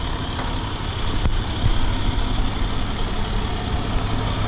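A 1000 horsepower 6.7 Cummins diesel race truck idles, a loud, steady low rumble throughout, close up, with a couple of faint clicks.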